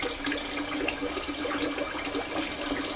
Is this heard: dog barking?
no